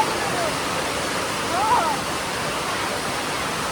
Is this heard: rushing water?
yes